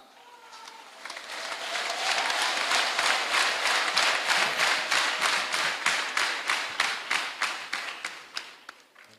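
A church congregation claps in steady rhythmic unison for a feast-day celebration, about two dozen beats that swell quickly, hold strong and then thin out toward the end.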